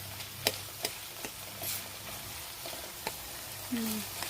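Tomatoes sautéing in a pan for egg curry, a steady soft sizzle with a few sharp clicks of a spoon against the pan and a brief low scrape near the end.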